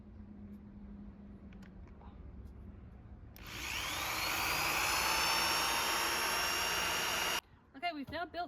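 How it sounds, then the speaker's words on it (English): A power drill drives screws into a wooden compost frame, its motor whining loud and steady for about four seconds after a quiet stretch, then cutting off abruptly. "I've already drilled pilot holes where the screws are gonna go, and now it's time to screw it in"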